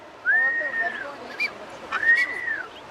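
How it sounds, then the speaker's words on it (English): A male Nazca booby in the Galápagos gives two clear, drawn-out whistles, each a rising then falling tone with a short gap between them, close by over quiet background. "So the male whistles, yes? It's a whistle, a nice whistle."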